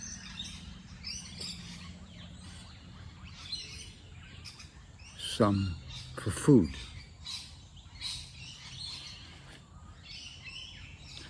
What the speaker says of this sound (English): The birds that you hear, they depend on the trees, and they depend on many types of trees,